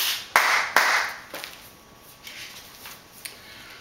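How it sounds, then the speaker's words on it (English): Hands clap sharply three times, two crisp close claps in quick succession followed by a softer third, with faint taps trailing off in a quiet room. "he sat down on a stool and clapped his hands 3 times."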